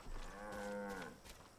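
In the video game Far Cry 5, a cow on a farm gives a single long, drawn-out moo, clear and fairly close, with faint background sounds around it.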